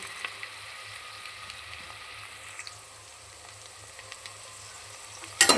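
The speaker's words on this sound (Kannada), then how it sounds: "ನೀಟಾಗಿ ವೆಜಿಟೇಬಲ್ ಫ್ರೈ ಆದರೆ ಗೀನಲ್ಲಿ ತುಂಬ ಟೇಸ್ಟಿಯಾಗಿರುತ್ತೆ." Chopped vegetables frying in ghee in a pan make a soft, steady sizzle with faint stirring clicks and a brief louder clatter at the end, with no talking.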